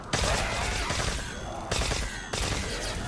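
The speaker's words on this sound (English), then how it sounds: "My favorite shotgun." Shotgun blasts in Call of Duty Black Ops 3 on the remastered Farm map: three loud, booming shots spaced about a second apart, each followed by a long rattling tail of gunfire and noise.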